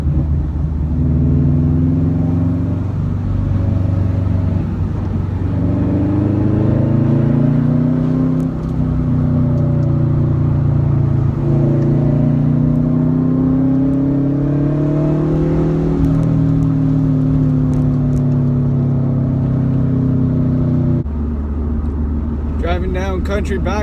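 A 2012 Subaru WRX hatchback cruises along country back roads, its engine a loud steady drone with gently rising and falling pitch as it changes speed, heard from inside the car.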